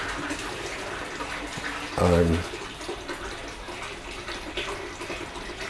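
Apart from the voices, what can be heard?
running water in the background at koi pond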